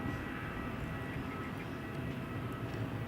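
Boeing 737-800 on pushback at Madeira Funchal Airport, heard as a steady, distant jet engine rumble and whine that holds level throughout with no talk.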